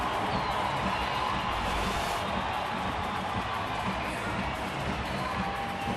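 Crowd buzz at a Rockies–Padres baseball game at Coors Field in Denver: a low, steady murmur of a large stadium crowd, distant and even, with no single voice standing out.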